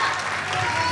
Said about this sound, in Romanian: Haideți încă o dată să o aplaudăm și să o felicităm pentru doamna Mărțișor.